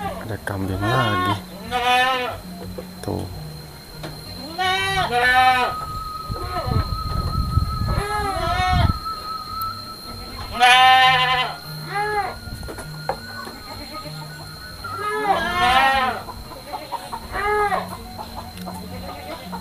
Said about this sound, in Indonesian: Ada kambing lagi di sini nih.